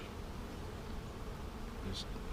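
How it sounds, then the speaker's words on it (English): A steady, dense hum of many honeybees buzzing close by in a growing package colony's hive, continuous throughout with no pauses. "There's getting to be more bees in the hive."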